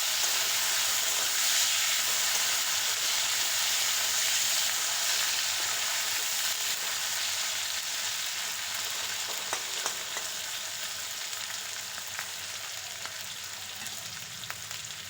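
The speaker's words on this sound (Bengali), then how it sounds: "এরপর কেটে রাখা আলুগুলো দিয়ে আলুগুলো হালকা ভেজে নেব।" Cut potatoes frying lightly in hot oil in a home kitchen pan, a steady loud broadband sizzle running through the whole stretch with a few faint clicks of stirring and no voices.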